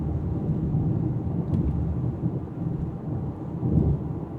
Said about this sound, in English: I hear more of that road noise